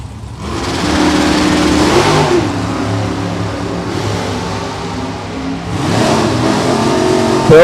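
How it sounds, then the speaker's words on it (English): A lightweight Chevrolet Cavalier drag car with a big engine accelerates hard down a drag strip, its loud engine roaring and climbing through successive gears with brief dips between shifts, close and dominant throughout. "Got that big motor underneath the hood. Little lightweight car charging hard."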